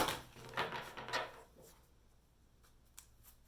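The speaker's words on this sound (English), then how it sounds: "Let's do one more shuffle and I will show you." Tarot deck being shuffled by hand, a few quick papery riffles and rustles up close at the start that fade, followed by near silence with a couple of faint taps.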